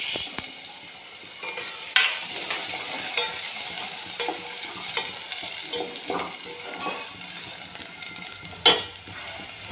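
Chopped tomato goes into oil already frying with ginger and garlic, giving a soft, steady sizzle with scattered stirring clicks and two sharper knocks of a utensil against the pan, quiet and close, without speech.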